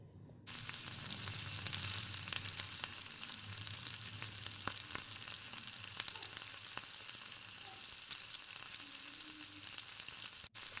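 Marinated prawns, placed in one by one, fry in hot oil with a loud, steady crackling sizzle that starts abruptly and continues unbroken, with faint pops throughout.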